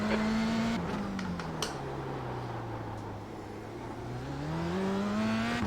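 A Formula 3 car in a sim racing game holds a steady engine drone that dips through a corner and then climbs again as it accelerates, with no talk over it.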